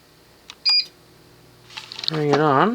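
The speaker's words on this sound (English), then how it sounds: "You hear the beep from the fan." A Nutone Elegance Select-Touch 52-inch ceiling fan from about 1988 gives one short, clear, high electronic beep in a quiet room, followed a moment later by a person speaking.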